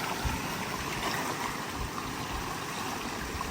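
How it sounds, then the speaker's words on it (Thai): Cool stream water flows steadily through a rural spot used for fish trapping in the rainy season, a continuous close rushing and trickling with no voices. "น้ำไหลเย็นสบาย"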